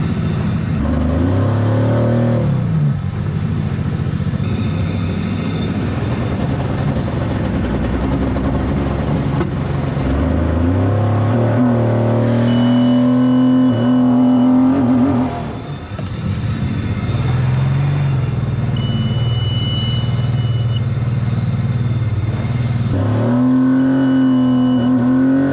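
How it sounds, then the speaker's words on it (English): A 155-horsepower outboard boat engine runs rough, misfiring on one of three cylinders. It drones loudly and steadily with uneven revs rising and falling, and one brief dip midway. "And it's kind of running badly,"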